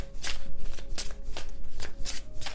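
Tarot cards are shuffled close up in a rapid series of riffling, flapping bursts that repeat in an uneven rhythm.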